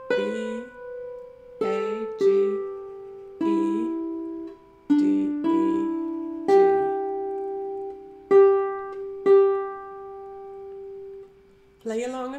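A harp plays the tune South Wind, a short phrase of single plucked notes that ring and decay one after another, clear and close with brief gaps between notes.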